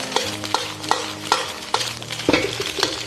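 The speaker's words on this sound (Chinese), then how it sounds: "我们把刚才的蛋白放入啊，打散" Egg whites being stirred and broken up in a hot wok for scallop fried rice, steady sizzling under regular spatula scrapes and clanks against the metal, close and even in rhythm.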